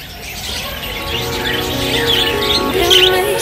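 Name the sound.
birds chirping at Ragunan Zoo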